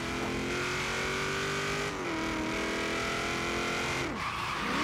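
Car tires skid and squeal as a four-wheel-drive vehicle spins out in a racing video game, with a steady engine drone under the screech and falling tire pitch slides around the middle and end.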